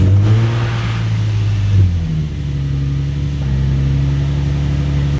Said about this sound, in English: We're going to go ahead and start up the Z now.